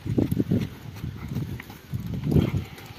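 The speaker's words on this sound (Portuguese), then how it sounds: "Saiu trotando, acalma ela" A horse trotting during spin training in a riding session, its hooves clip-clopping in a steady rhythm of close, moderately loud beats with brief pauses.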